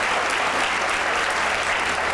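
Studio audience applause on a comedy talk show rings out as a loud, continuous burst of clapping, dense and unbroken for its brief duration.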